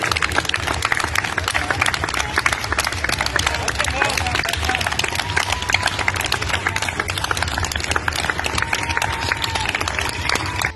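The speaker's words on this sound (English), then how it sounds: "claps and cheers." Residential society members welcome home a young girl who survived COVID-19 with continuous dense clapping and cheering from a close crowd, steady and loud throughout with voices mixed in.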